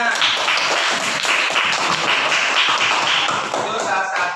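A class of students claps for a pupil named Restu during a Quran recitation lesson, a dense, steady patter of hands held at an even level throughout, with some voices mixed in.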